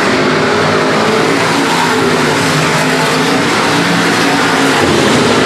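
Stock car engines roar at Nobles County Speedway, a loud, continuous blaring snarl of several cars racing past on the track as the white flag flies.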